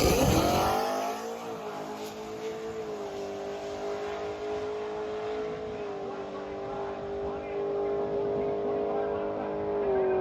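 Supercharged Pontiac G8 drag car launching at a drag strip during NMCA All American Nationals, a loud sustained engine roar that climbs in pitch and holds steady as the car pulls away, with faint announcer talk underneath.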